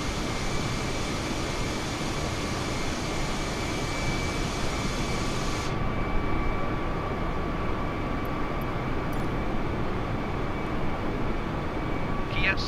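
An Airbus 320 in Microsoft Flight Simulator 2020 gives a constant loud jet engine roar and rush throughout, landing on a Baghdad to Kiev flight, with faint brief clicks late on.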